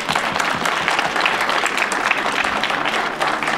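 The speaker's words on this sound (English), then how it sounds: "I have a big round of applause for our speakers there." An Occupy Wall Street teach-in crowd gives the speakers a full round of applause, a thick, continuous wash of clapping that stays loud and steady throughout.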